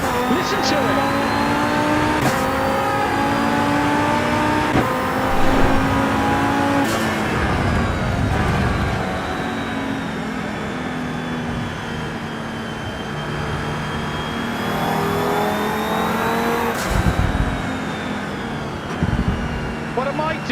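A loud race car engine in the Assetto Corsa Evo video game drones and revs continuously, pitch rising and falling, with a voice talking over it.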